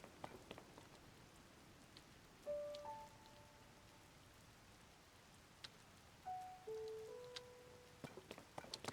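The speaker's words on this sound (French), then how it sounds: "la pluie, elle est vachement buggée" Glitchy rain in Zelda: Tears of the Kingdom makes a faint, steady hiss with sparse droplet ticks, broken by a few brief tonal electronic chirps.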